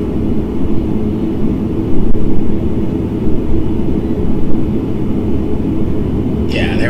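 ATR72-500 turboprop engines in the Prepar3D flight simulator, a steady low cockpit drone and rumble that swells slightly as throttle is added, with a voice talking over it.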